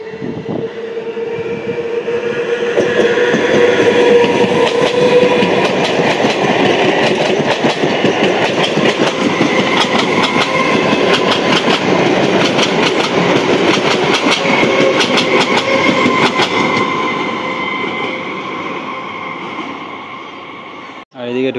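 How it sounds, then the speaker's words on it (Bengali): A Bardhaman–Sealdah local train on the down line rumbles loudly and continuously with rhythmic wheel clatter and steady mechanical roar, swelling then slowly easing as it pulls into the station, with faint voices underneath. "ঢুকছে ডাউন বর্ধমান শিয়ালদা লোকাল।"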